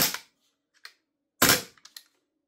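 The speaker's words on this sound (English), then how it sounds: "if I did a little burst of full auto though" A B&T GHM9 gas blowback airsoft gun fires a sharp crack, then a louder short full-auto burst of a few rapid pops with brief mechanical clatter, close and without talk.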